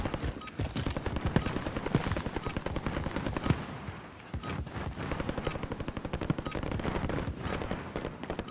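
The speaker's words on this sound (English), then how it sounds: "Receiving hostile fire." Rapid automatic gunfire from the Call of Duty: Warzone video game, dense bursts of machine-gun shots crackling almost continuously, loud and close with brief lulls between volleys.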